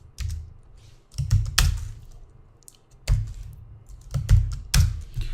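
Someone types code on a computer keyboard, sharp clusters of close key clacks and heavier thumps in uneven bursts separated by short pauses.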